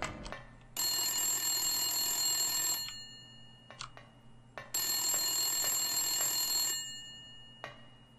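Old-style telephone bell ringing in the Silent Hill horror video game, two long shrill rings, each lasting about two seconds with a pause between, loud and close, with a few faint clicks in the gaps.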